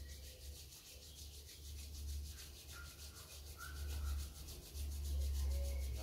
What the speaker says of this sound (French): Frotte les mains.